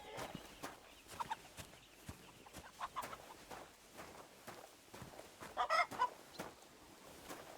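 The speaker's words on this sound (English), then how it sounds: "Mind the chickens." Chickens in the video game Kingdom Come: Deliverance II cluck intermittently amid scattered soft footsteps, with a brief louder flurry of clucking near the end; no talking.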